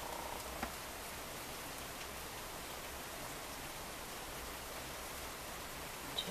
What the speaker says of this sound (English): it just started raining here.